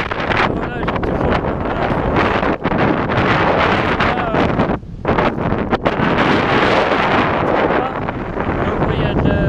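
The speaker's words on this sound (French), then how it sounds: "donc il y a du vent." Strong wind buffets the microphone on the coast of Île d'Yeu, a loud, constant gusty roar with brief lulls, and voices can be heard faintly beneath it.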